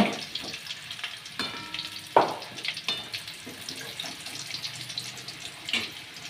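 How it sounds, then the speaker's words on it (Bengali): Potatoes frying in a pan for chicken biryani give a soft, continuous sizzle, broken by light scrapes and clinks of stirring, with one sharper metallic tap partway through. "এবার আলুটাকে ভালো করে ভেজে নেব।"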